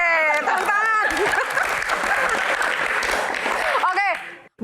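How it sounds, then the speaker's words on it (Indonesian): A crowd at a live Q&A event breaks into lively applause and cheering, a dense wash of clapping with excited voices mixed in, cutting off abruptly at the end. "Tepuk tangan."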